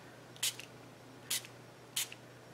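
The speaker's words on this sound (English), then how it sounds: "let's see what happens when I spritz this" Three quick, evenly spaced spritzes of water from a spray bottle onto paper freshly dabbed with re-inker for a watercolour valentine craft, each a short soft hiss over a quiet room, with no talking.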